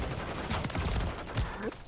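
Gunfire bursts from a shotgun in a Modern Warfare 3 online match, a few sharp close shots amid busy game noise with faint voices underneath.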